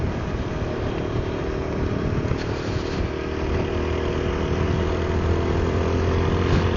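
A TVS Apache RTR 160 4V motorcycle engine runs steadily in fifth gear while riding on the road. It is a loud, continuous drone mixed with rushing wind noise, and no one speaks.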